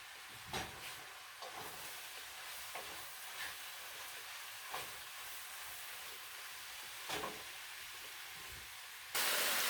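Mushrooms sauté with onions and garlic in a pan, giving a steady soft sizzle and hiss punctuated by faint clicks and stirring taps, ending in a sudden louder burst of sizzling, with no one talking.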